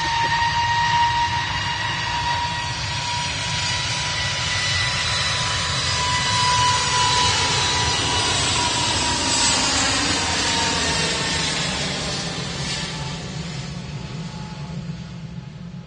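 Airbus A321neo jet in easyJet livery at Manchester Airport, a steady loud broadband engine roar with a whining tone that slowly shifts in pitch as the aircraft moves past, fading slightly toward the end.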